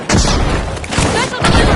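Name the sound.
frag grenade tossed in a video game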